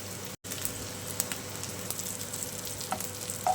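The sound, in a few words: shallow frying chicken cutlets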